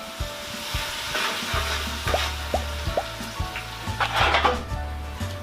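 Chopped onions fry on a high flame, crackling and sizzling steadily while a spoon knocks and scrapes against the pan in an irregular rhythm.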